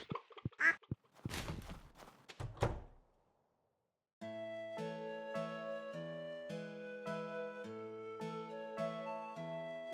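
In Stardew Valley, a duck gives a few short quacks with game thunks, then a gentle chiming game music melody follows after a brief silence.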